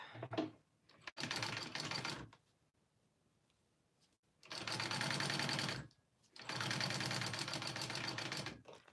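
A sewing machine stitching connectors, running in three separate fast mechanical bursts of one to two seconds with quiet gaps and a few clicks between them, close and clear, with no talk.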